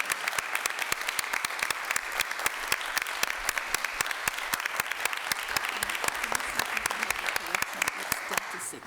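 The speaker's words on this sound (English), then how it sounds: "if we could just give a round of applause for our candidates" An audience applauds candidates at a League of Women Voters candidate forum, with steady, dense clapping throughout and voices faintly mixed in.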